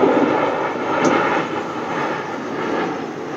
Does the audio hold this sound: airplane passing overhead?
yes